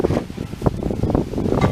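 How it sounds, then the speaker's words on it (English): Wind gusts blow outdoors by a new barbecue grill, rough rumbling buffets hitting the microphone in uneven pulses, loud and close with no voices. "Pretty windy."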